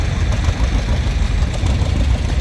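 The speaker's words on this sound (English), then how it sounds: "Then we got a couple of John Deere B, one with round top fender." A 1951 John Deere B tractor's engine runs in a tractor parade at a threshermen and collectors show in Albert City, Iowa, a loud, close, continuous low chugging rumble with no talk.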